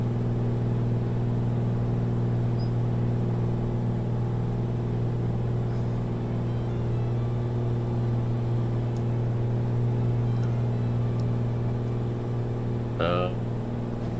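A constant, droning aircraft engine hum from a flight simulator game is throttled back to 150 horsepower. The tone stays steady and fairly loud, with a brief chirp near the end.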